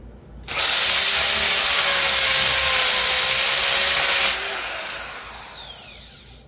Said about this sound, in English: I'd drill a few more, and maybe you can catch that along with me here.